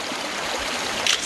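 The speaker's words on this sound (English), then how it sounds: "I'm gonna cross the creek here if I can figure out how to do it" Creek water flowing beside a hiking trail, a steady close rush and trickle filling the short stretch, with a brief louder splash near the end.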